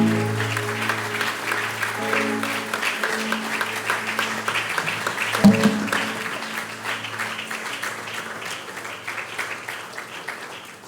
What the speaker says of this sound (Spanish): ¿Por qué no das un fuerte aplauso al Señor?